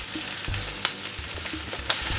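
Onion and pepper sizzle steadily in a pan, with two sharp clinks of a utensil against the cookware cutting through the frying hiss.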